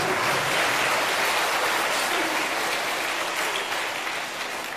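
Sustained audience applause fills a lecture hall at a learning centre in Kolkata, a dense, steady wash of clapping that runs loud and unbroken throughout.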